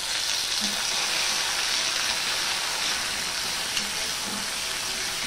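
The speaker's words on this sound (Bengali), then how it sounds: "এবার দিয়ে দিচ্ছি টমেটো কুচি।" Chopped tomato hits a pan of garlic fried until red, giving a loud, steady sizzle that fills the whole stretch like heavy rain, with no talking over it.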